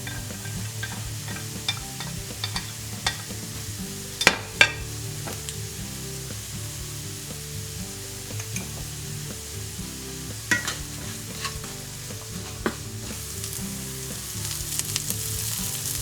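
Chopped onion and celery frying in a little oil in a pan, a steady dense sizzle with occasional sharper pops and a couple of brief utensil clinks, heard up close with no talking.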